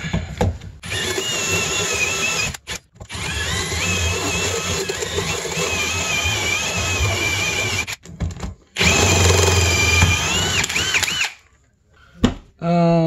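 A power drill fitted with a hole saw bores through material during a snowmobile trailer ski-down tie repair, whining loudly in long sustained bursts with short pauses between them, close up and with no speech over it.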